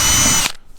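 A drill with a 1/8 inch bit whines loudly through a plastic kayak hull at the end of a crack, a short close burst of under half a second that cuts off sharply.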